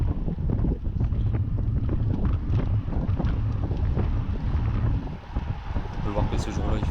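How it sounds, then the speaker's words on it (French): Strong wind buffets the microphone during a race in Ploegsteert in a continuous low rumbling roar, with voices partly audible beneath the gusts. "le vent soufflait vraiment pas mal."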